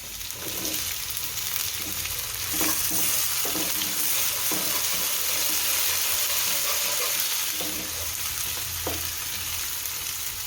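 Green peas go into a pan sizzling with ginger, a loud close frying hiss that carries throughout, punctuated by several stirring knocks of a spoon against the pan.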